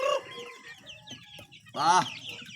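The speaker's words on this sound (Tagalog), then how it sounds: "Nagkakagulo ng mga sisiw ko, gutom na po." Hungry chicks cluck and chirp close by in a busy flurry of short calls, with a louder burst of squawking near the end.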